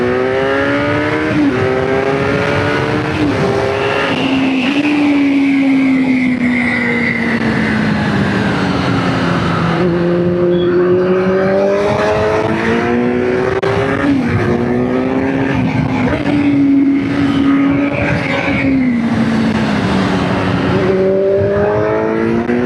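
A Kawasaki Z900 motorcycle engine drones steadily throughout the ride, its pitch climbing and falling through repeated throttle swells and gear changes, loud and close with no voices.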